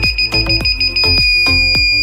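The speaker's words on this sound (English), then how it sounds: "Once the receiver gives a long beep, it's been cleared." A Sherlotronics single-channel receiver gives a long beep: a steady electronic tone holds throughout, with sharp rhythmic knocks repeating about every quarter second underneath.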